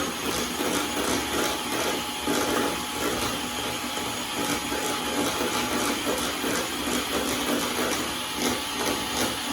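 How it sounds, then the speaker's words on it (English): An electric hand mixer whirs steadily as it beats mascarpone cream with vanilla extract, a close, continuous motor drone with slight fluctuations through the whole stretch and no talking. "you're going to use your blender here, mixer, and mix it all together"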